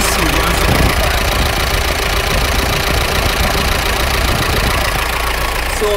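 A Mahindra Roxor diesel engine idles close by with a steady, loud knocking rumble that holds even for the whole stretch, with no talk over it.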